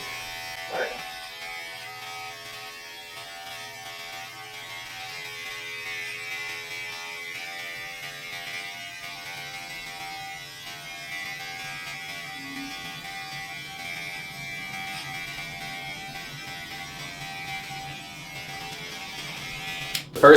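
Electric hair clippers buzz steadily at close range for the whole stretch, cutting a man's own hair into a fade at home, with a brief click at the start and end and no talking.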